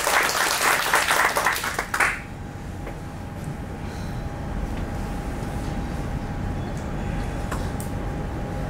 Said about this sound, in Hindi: एक बार अपने लिए जोरदार ताली